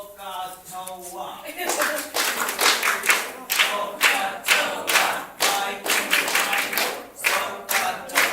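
Audience clapping a rhythm together in a music engagement session, sharp synchronized claps in a steady repeating pattern, loud and close, with a sustained tone and voices at the start.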